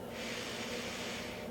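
A single slow, deep inhale through the nose, a steady airy hiss close by and alone.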